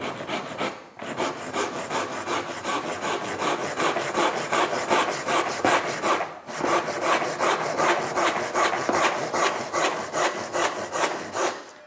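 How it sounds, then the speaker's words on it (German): Steady back-and-forth rasping of a hand saw cutting through wood, close and loud, with two brief pauses between runs of rhythmic strokes. "ob wir jetzt hier rein sägen können"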